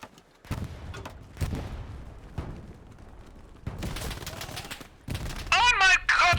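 Bursts of MG42 machine gun fire in a World War II video game battle, sharp clustered shots under shouting voices, with a loud raised voice near the end.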